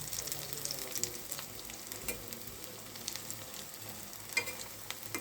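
Lentil and prawn fritters frying in hot oil: a faint, continuous hiss and crackle of bubbling oil with occasional small pops, steady throughout and with no talking.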